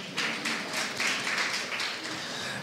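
Audience clapping at a church gathering, a short round of fairly loud applause from a room of people, with rhythmic claps pulsing through and no talk over it.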